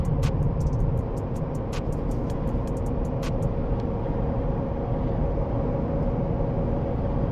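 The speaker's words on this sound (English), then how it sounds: "this thing drives great on the highway, especially when you get on the smooth roads" A 2024 Shelby Super Baja Ford F250 truck driving on the highway, heard from inside as a loud, steady road and engine roar with tire hum, a few light ticks early on and no talking.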